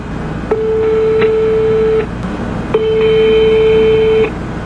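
Two long steady beeps of a phone ringback tone during an outgoing call, each lasting about a second and a half with a short gap between, loud and clear over faint background hiss.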